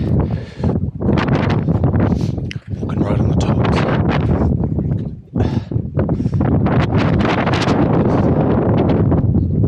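Strong winter wind in New Zealand hill country buffets the microphone in loud, continuous gusts, with a brief voice speaking under the roar.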